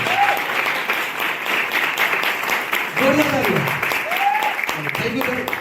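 An audience applauds loudly and continuously at a business plan presentation, with a few scattered voices and cheers rising through the clapping.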